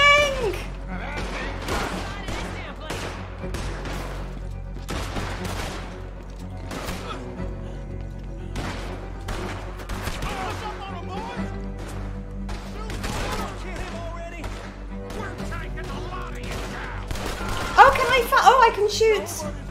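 Bursts of gunfire in the Red Dead Redemption 2 video game, repeated sharp shots in irregular clusters over about twenty seconds amid a dense game soundtrack, with shots growing louder near the end and a voice talking throughout.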